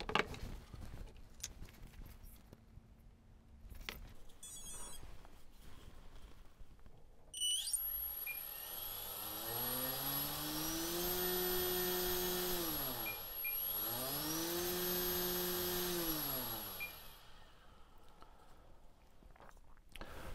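A small electric motor on a popsicle-stick mount spinning a 5x3 propeller spools up into a loud steady whine with a buzzing propeller hum, its pitch sagging and rising twice before winding down, after a few seconds of quiet handling noises.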